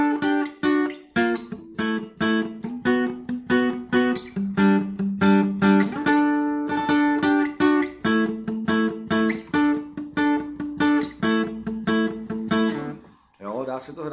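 Guitar riff from a Czech song, a quick run of plucked notes in a steady repeating pattern played close and clear, with no talking over it.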